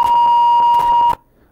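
A steady electronic beep on a telephone line during a Pakistani television talk show call, held loud and continuous for about a second, then cutting off abruptly into near silence.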